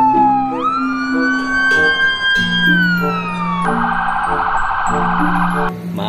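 A toy ambulance siren wails with rising and falling electronic tones, switching between siren patterns, loud and close, over a simple looping electronic tune.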